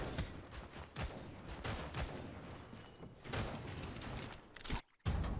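Gunfire in Naraka: Bladepoint, a quiet, distant series of rapid shots mixed with clicking mechanical noise, pausing briefly near the end before one more burst.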